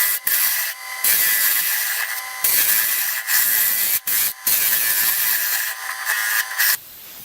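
Rough, close scraping of a woodturning gouge against wood in long strokes, used like coarse sandpaper, broken by a few brief pauses, loud and steady.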